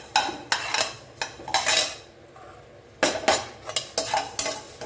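Metal spoon scraping and clinking against a pan while dry-roasting spices such as black pepper and cumin, in bursts of stirring, with a faint sizzle underneath and a short pause midway.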